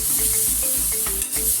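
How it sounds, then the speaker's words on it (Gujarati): Samosa filling spiced with coriander-cumin powder, red chilli and garam masala sizzles loudly in a hot pan, with rhythmic scraping strokes of a spoon stirring it through the steady frying hiss. "હવે એમાં ધાણા જીરું પાવડર, લાલ મરચું અને ગરમ મસાલો ઉમેરીશું. પછી બરાબર હલાવી દઈશું."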